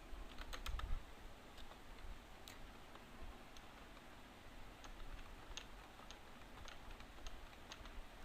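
Computer keyboard typing comes as a faint series of light, irregular key clicks close up against a quiet background hiss, with no voices.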